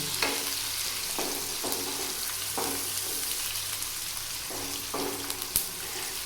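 Onions for white karahi sizzle and crackle in hot oil, a constant frying hiss with occasional soft clinks and pops.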